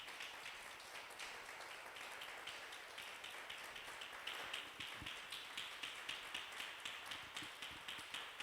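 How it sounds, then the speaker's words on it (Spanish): Congregation applause welcoming a pastor at a church service: steady, dense clapping from many people, heard at a moderate distance with an even, continuous texture throughout. "recibamos, amados hermanos, con un fuerte aplauso al pastor Luis Cano"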